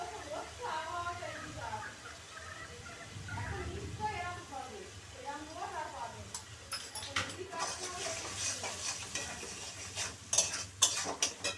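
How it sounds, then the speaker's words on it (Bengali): Spices frying and being stirred in a pan for a dry cauliflower curry with salt and turmeric, a soft sizzle under a voice, then scraping spoon strokes and clinks against the pan growing louder near the end. "ভালো করে মশলাটাকে ভেজে নেব"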